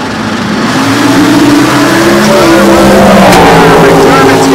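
Drag race cars roar loudly off the start line at a handicap drag race, a dense sustained engine blare rising in pitch, with a commentator talking over it throughout.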